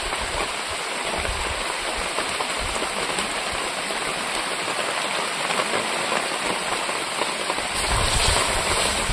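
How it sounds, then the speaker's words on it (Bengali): Mutton and potato curry boils in a pot, giving a steady close hiss and dense bubbling that continues evenly without pause. "এবার কিছু সময় ফুটিয়ে নেবো আলুটা সেদ্ধ হওয়া অবধি।"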